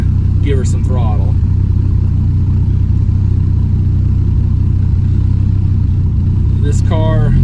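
A 1995 Dodge Viper R/T 10 roadster's engine rumbles loud and close from inside the car, a steady deep drone throughout, with brief voice-like sounds at the start and end.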